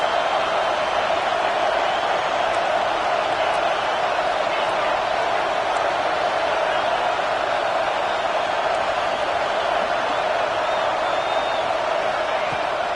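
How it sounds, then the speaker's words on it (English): A packed football stadium crowd roars continuously behind the defense, a steady, loud wash of noise with no break, while a commentator speaks over it. "Listen to this crowd just shaking the girders of this place, trying to help their defense"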